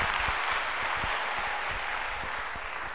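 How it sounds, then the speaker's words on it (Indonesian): Seminar audience applauding, a steady wash of many hands clapping together, moderately loud and close, holding evenly for a few seconds with no voices over it. "terima kasih, tepuk tangan."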